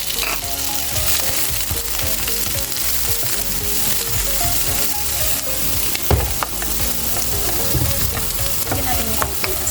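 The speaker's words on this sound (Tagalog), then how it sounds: "Tapos, yung hipon, iingisa lang natin ng saglit lang" Shrimp sautéing quickly in a hot pan for a braised egg tofu and prawn dish, a loud steady sizzle with frequent stirring and scraping clatters throughout, no talking.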